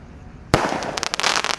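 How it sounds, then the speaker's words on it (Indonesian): Firecrackers and fireworks set off outdoors at night: after a quiet moment a loud sudden blast, followed by a rapid irregular string of sharp crackling pops close by. "terima kasih sudah mengikuti menyalakan semua mercon petasan malam ini"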